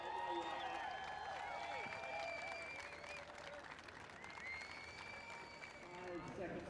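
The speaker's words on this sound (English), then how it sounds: "Let's give these ladies a big cheer and wish them well on their way" Spectators at the start of the RAC half marathon applaud and cheer the elite women runners in a steady, fairly distant wash of clapping with occasional shouts, and talk can be heard amid the noise.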